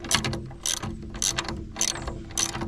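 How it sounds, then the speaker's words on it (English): A ratchet wrench fitted with a 13 mm socket turns a bolt on a stump grinder, giving close, loud, rhythmic clicking strokes, about five regular pulls in quick succession. "13 mil socket, and I already had it on this wrench"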